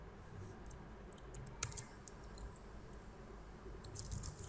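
Typing on a computer keyboard, with faint, scattered key clicks and a few sharper taps over a quiet background, no talking.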